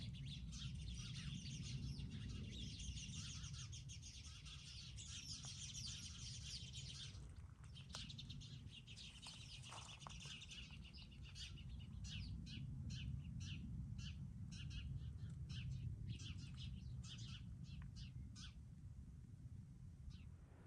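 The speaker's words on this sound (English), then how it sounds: "in the evening all the birds are gathering here in the cypress tree" Many birds chirp and call in an evening cypress tree, a dense chorus of overlapping tweets with sharper repeated calls in the second half, over a steady low rumble of background noise.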